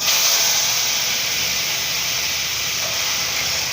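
Red lentils (masoor dal) dropped into hot oil tempered with panch phoron, for a pumpkin, papaya and potato dal. They give a loud, continuous steamy hiss that eases slightly as it goes on.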